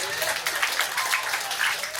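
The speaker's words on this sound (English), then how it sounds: "Give her a round of applause." An audience at a comedy and magic show claps steadily in dense, continuous applause, loud and close, with no pauses.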